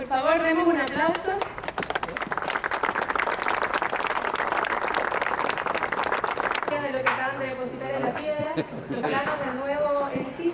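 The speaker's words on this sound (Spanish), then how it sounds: "Por favor, demos un aplauso." Audience clapping at a groundbreaking ceremony for a new social sciences academic building, a dense burst of hand claps through the middle with voices talking and some chuckling before and after it.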